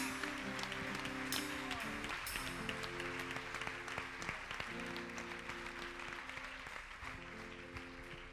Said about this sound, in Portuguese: Vamos aplaudir esse Senhor maravilhoso